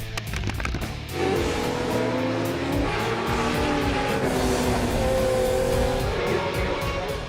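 Race cars roar off at the start of an endurance race, a loud dense engine blare building after a brief quieter moment, with overlapping whines of cars accelerating past.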